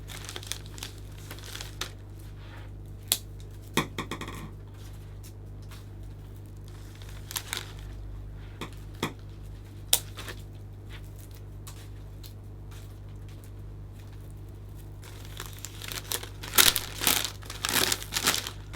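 Cellophane crinkles and rustles in short, scattered bursts while a Christmas gift bag arrangement is built over floral foam, quiet and close, growing busier near the end.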